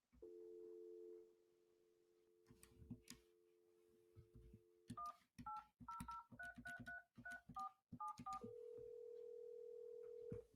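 A phone calls Dish: a steady dial tone, then a quick run of touch-tone DTMF beeps keying in the number, followed by another steady tone, clear and close with no talk.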